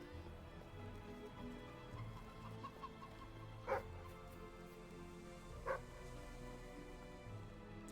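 Chickens clucking in the Fable 3 game world, a soft, continuous cackle of fowl under quiet ambient sound, broken by two brief sharper squawks.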